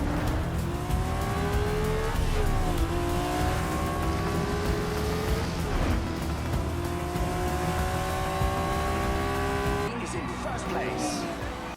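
A Ferrari 330 P3 race car engine screams at high revs, climbing through several gears with brief drops in pitch at each shift, loud and continuous.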